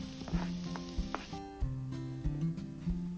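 Chopped vegetables, among them capsicum and cabbage, sizzle quietly in a pan while being stirred for a scrambled egg filling, with soft regular scraping taps from the spoon against the pan.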